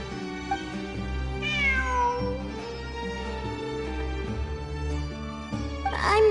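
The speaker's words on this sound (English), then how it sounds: "It really is a cat." A cat in the video game Genshin Impact meows several times, clear and close, over a sustained musical background.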